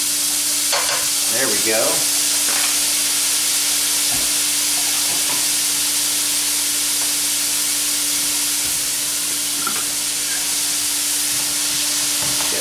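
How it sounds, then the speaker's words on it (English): Onions and minced garlic fry in a pan with a steady, close sizzle and hiss, with a few stirring scrapes near the start and a brief spoken remark. "So in there, I'm going to put the onions, and then I'm going to put a nice measure of minced garlic."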